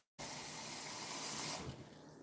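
Tap water gushes steadily into a cup, to be boiled for instant rice, a loud close rush starting abruptly after a brief silence and tapering slightly near the end.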